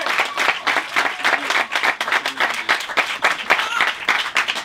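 Wedding guests applaud a newly married couple at a church ceremony, a loud, dense burst of clapping from a crowd that rises and falls, with voices mixed in.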